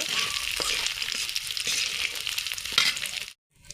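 Dried fish fries in oil with a close, crackling hiss and scattered spits and pops, holding steady before stopping abruptly near the end.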